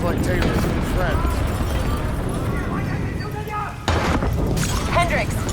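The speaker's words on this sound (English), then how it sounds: "we have multiple explosions across the facility" Muffled explosions ring out across a facility in the video game Call of Duty: Black Ops 3, with continuous rumbling and debris noise under game music and voices talking throughout.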